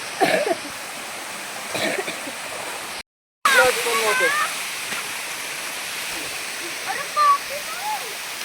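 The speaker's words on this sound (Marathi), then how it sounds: "हा आपला धबधबा मगाशी जिथे मी बसलो होतो तो धबधबा" A waterfall on a river roars as a constant broadband rush, with voices speaking over it and a brief dropout partway through.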